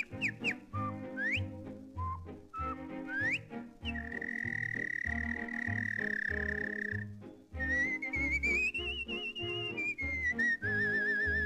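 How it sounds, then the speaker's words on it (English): Recorded mockingbird song played back from a record, a steady stream of varied whistled phrases, trills and sustained notes, fairly faint, with no talking. "that you've heard the mockingbird"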